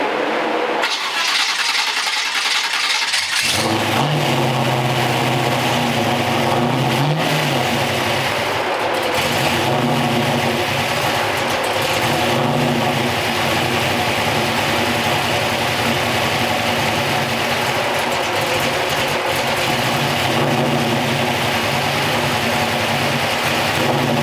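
A small block Chevy engine cranks and catches, then runs loud and steady with rising throttle blips while the carburetor is tuned, close by and dominating throughout.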